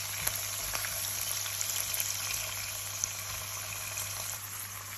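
Capers, pine nuts and raisins fry in a pan while being stirred, producing a continuous close hiss and sizzle with faint scraping ticks and a low steady hum beneath.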